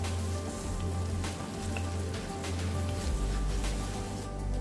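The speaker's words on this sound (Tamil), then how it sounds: "இதையும் நல்லா பச்சை வாசனை போகிற வரைக்கும் இஞ்சி பூண்டு விழுதை வதக்கிக்கலாம்" Ginger garlic paste sautéing in a pan for a cauliflower pepper fry, giving a steady, dense sizzle that stays at an even level throughout, with no talking.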